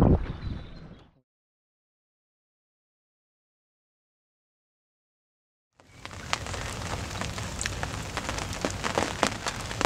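Rain falls steadily at a carp fishing lake in the UK, a dense, even patter with scattered sharper drops, rising after a long silent gap and continuing to the end; a brief broadband burst opens the clip.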